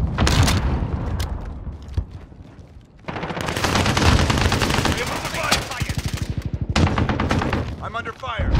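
Hostile gunfire in Call of Duty Warzone Payload mode: loud bursts of automatic weapon fire with sharp single shots and rapid rattling volleys, close and dense, with a radio voice briefly heard among the shooting.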